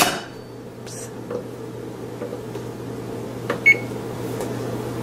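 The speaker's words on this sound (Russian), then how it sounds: "Накрываю фольгой и ставлю в духовку." A foil-covered salmon dish topped with vegetables and pineapple pieces goes into the oven: a steady low hum runs throughout, with a few clinks and a brief knock near the end.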